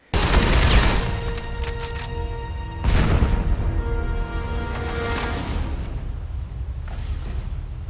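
Rapid gunfire bursts from the video game Shadow Complex, a loud continuous fusillade with a heavy blast near the start and another around three seconds in, mixed with booming effects and mechanical clatter.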